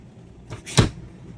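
A short wooden slide and bump, a full-extension drawer in a Hoosier Cruiser 28TBS travel trailer pulled open once, close by in a quiet room.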